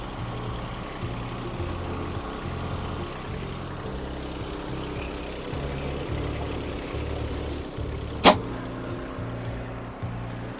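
An Iseki TM17 compact Japanese tractor engine runs at a steady idle, a low, even mechanical drone with a faint pulsing rhythm and one brief sharp click partway through, with no voices.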